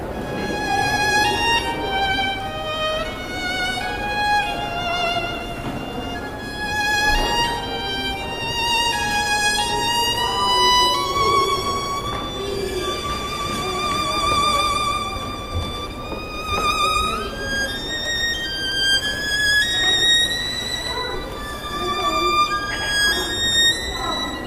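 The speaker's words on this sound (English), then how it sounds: "It starts with first violin." First violin plays a lilting melody alone, bright bowed notes rising and falling in steady phrases with clear ornaments, sustained for the whole passage.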